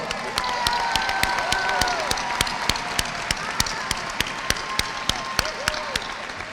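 A high school graduation audience applauds graduating students with steady, moderate clapping mixed with a few crowd cheers, punctuated by regular sharp clicks throughout.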